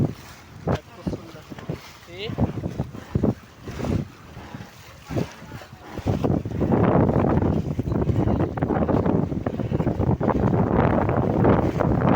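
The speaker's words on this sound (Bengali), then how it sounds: "প্রচন্ড আকারের পানির ঢেউ দেখতে পাচ্ছে।" On the Padma river in a storm, wind and waves batter a boat. Gusty, buffeting bursts of wind noise give way to a loud, continuous rushing roar.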